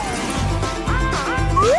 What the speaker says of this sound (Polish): Weźmiemy młotek i rozbijemy go w drobny mak.